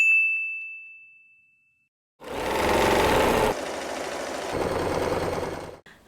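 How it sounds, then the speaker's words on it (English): A sewing machine stitches a straight seam along the edge of fabric pieces for a layered hair clip: a short ding rings out, then the motor whirs steadily for several seconds nearby before cutting off abruptly. "Sew a straight line along the edge of each piece of fabric."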